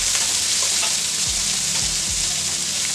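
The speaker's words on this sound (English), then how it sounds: "I am adding my aromatics to this and give it a nice saute" Aromatics sauté in oil in a pot for a Caribbean stew fish, giving a dense, even sizzle up close with a few soft knocks of the spoon and no talking.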